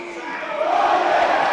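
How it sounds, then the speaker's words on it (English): A rugby crowd at a BUCS Super Rugby match between Cardiff and Cardiff Met roars wildly after a penalty is won, a dense, swelling wall of cheering that builds and holds loud. "The crowd go berserk here as they win a penalty against all the odds"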